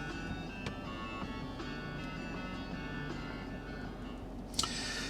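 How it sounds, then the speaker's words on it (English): A phone ringtone sample played through a Kia Sorento's infotainment system: a quiet, steady electronic melody with sustained tones, ending in a brief brighter burst. "Ringtone on your phone, how loud do you want that to be?"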